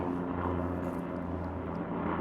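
A helicopter flies overhead with a steady, muffled rotor and engine drone that stays close and even for a couple of seconds.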